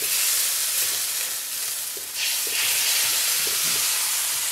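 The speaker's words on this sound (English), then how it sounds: "Go ahead and put our sauce in." Sauce hits a hot wok of stir-fried chicken and broccoli with a loud, steady sizzle and hiss, briefly dipping, then surging back as the liquid spreads across the pan.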